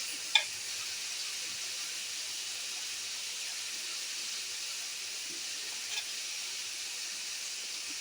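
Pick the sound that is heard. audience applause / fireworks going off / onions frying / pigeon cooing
onions frying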